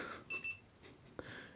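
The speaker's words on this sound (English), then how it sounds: "it beeps." Electronic beep from a Panasonic HC-V10 camcorder on entering its service menu, a thin steady tone in two short pulses, fairly faint, with no talk.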